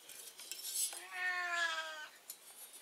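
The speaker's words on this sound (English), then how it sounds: "If you hear, that's my cat" A cat gives one drawn-out meow, close and clear, with faint clinks of dishes or cutlery nearby.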